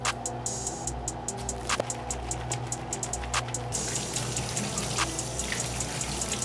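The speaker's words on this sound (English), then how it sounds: "We're gonna go to the sink, give these a good scrub, and rinse them out." Sink water runs steadily while shoelaces from a 1985 Air Jordan 1 are rinsed and scrubbed beneath it, with a constant rushing flow and scattered splashy taps from handling.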